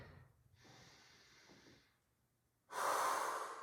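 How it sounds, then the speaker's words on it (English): Deep breathing during a TRX suspension strap workout: a long, steady inhale or exhale of airy hiss, then a louder, forceful burst of breath toward the end, close and with no talking. "We're gonna do 1 more breath this time."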